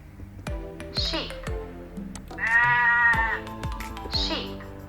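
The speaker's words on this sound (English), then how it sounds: "sheep" Sheep bleat in a computer-assisted instruction lesson, loud quavering calls standing alone, interleaved with a few sharp clicks and taps.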